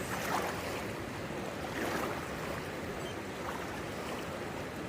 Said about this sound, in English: A cool down stop with a nice creek, the Cool Creek, coming into the Clearwater River.